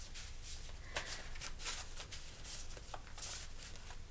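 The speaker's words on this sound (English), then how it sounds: "I shuffle these, right?" Tarot cards shuffled by hand at close range, giving soft, repeated papery riffles and light slaps in an irregular rhythm against a quiet room background.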